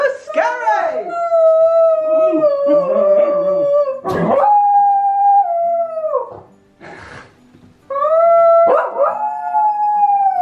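A dog howls in long, wavering, high-pitched cries, pausing between howls, with a person's voice briefly mixed in near the end.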